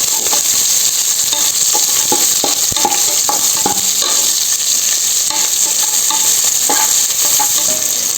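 Onions and mint sauté in hot oil for mutton sukka, a loud continuous sizzle with scattered scraping stirs and clinks of a spoon against the pan, close and constant.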